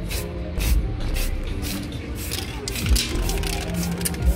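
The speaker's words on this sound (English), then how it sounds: "Try and spray at the same distance." Steady hissing spray of lacquer from a spray can onto BMW F32 brake calipers runs through the whole stretch, pulsing slightly as it is applied, with faint handling noise underneath.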